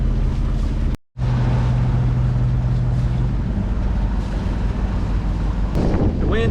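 Strong wind buffets a sailboat on Chesapeake Bay near Herring Bay, a loud continuous roar with a low hum underneath and one brief dropout.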